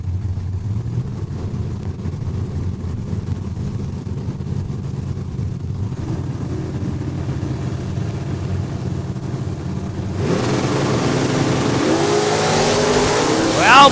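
A drag race run at Saskatchewan International Raceway in Saskatoon between an '82 Camaro and a '68 Mustang, engines roaring steadily and loudly, then the sound opening into a brighter, louder surge near the end.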